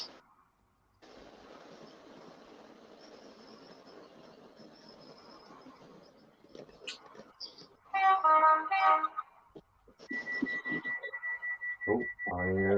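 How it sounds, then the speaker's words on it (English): Honking horn bursts rise above a quiet background, with a long steady horn note near the end and several short honks. "I hear a honk honk."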